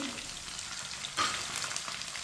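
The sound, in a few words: stirring tomatoes and green chillies frying in a pan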